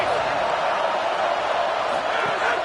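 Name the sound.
loud football stadium crowd cheering for the defense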